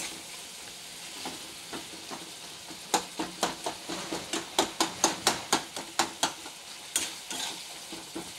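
A ground paste of onion, ginger, garlic, cumin and coriander is sautéed in a pan under a faint sizzle, then stirred with a rapid series of evenly spaced spatula knocks and scrapes against the pan.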